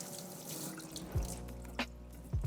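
Tap water runs steadily into a sink while a bunch of cilantro is rinsed under it, with a few soft splashes and shifts in the stream as the herbs are moved, quiet and close.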